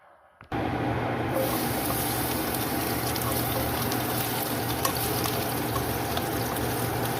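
Sardines and vegetables sizzle steadily in a hot pan, a loud, even frying hiss that starts abruptly and holds without pause.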